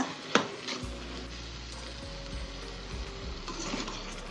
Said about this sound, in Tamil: தக்காளியும் வெங்காயமும் சேர்த்து நல்லா வதக்கி விடுங்க